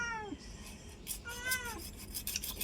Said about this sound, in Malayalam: മിണ്ടാതിരി പൂച്ചേ